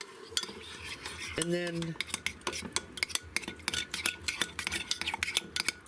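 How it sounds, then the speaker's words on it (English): A spoon clinks and scrapes around a bowl as a cucumber salad seasoned with salt and pepper is mixed, a run of rapid sharp taps near the mic, with a brief spoken word early on. "And now go ahead and mix this all up."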